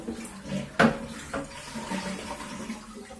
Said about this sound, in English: So let's go ahead and flush this thing.